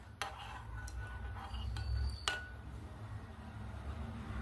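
A spoon stirs a drink with added kaskas seeds in a glass, giving a few sharp, close clinks against the sides spaced irregularly over a low steady background hum.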